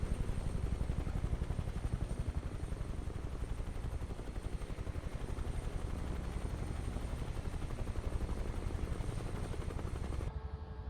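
A UH-1H Huey helicopter in MSFS 2024 flying over a Colorado valley, its rotor chopping in a steady, loud, rapid rhythm with engine whine that runs unbroken throughout.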